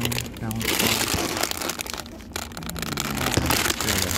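Tape being pulled and pressed onto a plastic part of a vending machine, giving close, steady crinkling and crackling throughout, with a person talking over it.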